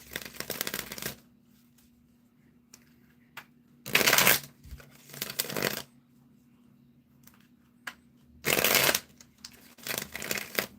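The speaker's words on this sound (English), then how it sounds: "All right, 3 shuffles," Three separate bursts of a sticky, six-or-seven-year-old card deck being riffle-shuffled, each about a second long, with quiet pauses and faint taps in between.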